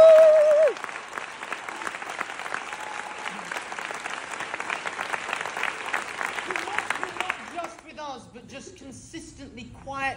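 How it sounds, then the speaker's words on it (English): A large theatre audience applauds the producers at an anniversary celebration, a full, sustained burst of clapping. It starts just after a brief voice, fades out toward the end, and gives way to speech. "Our production team, and producers Kenny and Mark, who deserve a huge round of applause."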